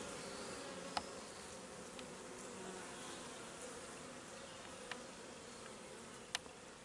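A honeybee colony hums at a bustling beehive, with a faint, even buzzing drone running throughout and a few brief, close insect fly-bys cutting through.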